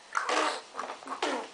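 A young child imitates a dog's woof, making several short, breathy, rising vocal bursts close to the microphone, quiet and separated by brief pauses.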